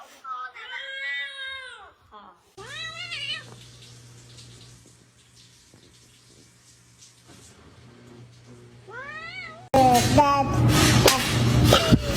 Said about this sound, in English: don't pull Kitty's tail. He's gonna get you